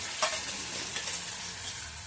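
Onions frying in a hot pan over a wood-fired stove, a bright continuous sizzle with a sharp crackle at the start and light stirring scrapes, close and steady.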